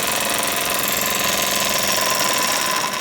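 A small model steam engine, a Jensen Model 25, chugs in a fast, even rhythm at idle, with a steady mechanical knocking that carries on unbroken.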